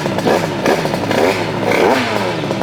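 A 100cc motorcycle engine revs hard on a Shiftech dynamometer, a loud continuous buzzing drone that rises and falls in pitch through repeated high-rpm pulls, close and alone.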